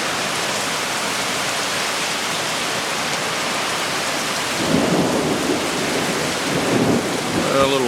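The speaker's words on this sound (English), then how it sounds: "A little thunder boomer." Low rumbling thunder rolls through a steady roar of heavy summer rain, heard from a house doorway, the rumbles swelling in the latter half over the constant downpour.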